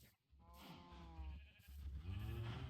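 Sheep in the Minecraft video game bleat several times in quick succession, wavering nasal cries close up and fairly loud, with no voices.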